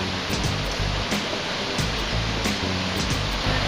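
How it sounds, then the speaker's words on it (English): A waterfall near Spences Bridge, British Columbia, pours in a steady, loud, broadband rush that fills the whole clip with no break and no voices. "let's go check out the waterfall here."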